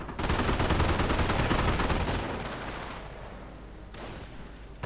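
An MG42 machine gun fires in a World War II strategy video game while grenadiers suppress riflemen. A loud, dense, continuous burst tapers off into fainter gunfire, with no talk over it.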